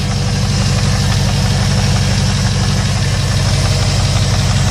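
A 2001 Jeep Grand Cherokee with a 4.7 V8, first started after three months of sitting, idles steadily up close, a loud, even low throb with a faint knocking pulse and no voices.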